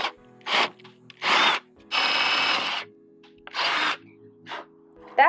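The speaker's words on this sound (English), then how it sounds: "you should make a pilot drill hole first, like so" A power drill bores a pilot hole ahead of a jigsaw cut in a van build, running in four loud bursts of about half a second to a second each, separated by short pauses.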